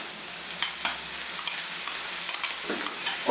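Seafood, broccoli and bean sprouts stir-fry sizzles steadily in a hot pan while a utensil scrapes and clatters against it every so often, with no voices.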